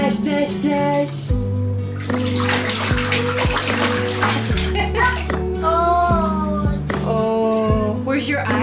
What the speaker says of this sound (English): Splash, splash.